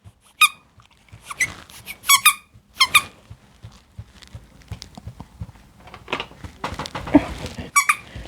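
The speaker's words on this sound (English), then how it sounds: "Oh, it's squeaking." A squeaky pet toy squeaks in sharp, high bursts, a few in quick clusters and others spaced apart, close and fairly loud, with soft rustling and handling noise between them.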